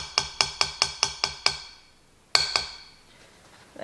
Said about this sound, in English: Then I'm gonna tap it on the side, trying to get all the excess chocolate off.